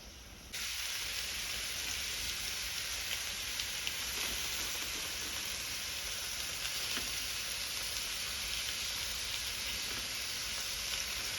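Octopus tentacles brushed with butter sizzle loudly on a grill at a Thai street food stall, a steady dense hiss that starts abruptly and continues unbroken, close up.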